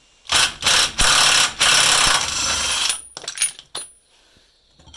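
A rear brake disc nut on a Renault Scenic is loosened with a ratcheting tool, giving several loud, close metallic bursts followed by lighter clinks and small rattles.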